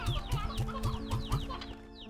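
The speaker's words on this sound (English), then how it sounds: "I'll put the roosters in there." Roosters in Slime Rancher 2 cluck in a quick repeated rhythm, about half a dozen short clucks close by, fairly quiet, with no talking.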